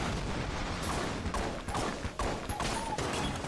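The Goal's Revenge gun in Enter the Gungeon fires a rapid volley of shots, dense popping bursts and booms crowding together over a steady layer of game noise.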